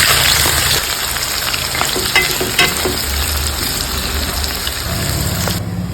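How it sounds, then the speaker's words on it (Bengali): Sliced onions frying for beresta in a nonstick pan, a steady close hiss with crackle and occasional soft stirring clicks, running continuously throughout with no talking. "একটা ননস্টিক কড়াই বসায় দিছি, বেরাস্তাটা ভাজতে নিই"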